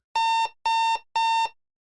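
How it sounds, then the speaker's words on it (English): An alarm clock rings in three short, loud, identical electronic tones, each about a third of a second long and evenly spaced, followed by silence. "it can mean to metaphorically explode with noise, like an alarm clock"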